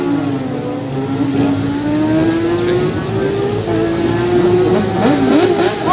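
Superstock race motorcycles rev hard and pull away from a start line in turn, a loud, close, rising engine whine that climbs steadily and stays dense throughout.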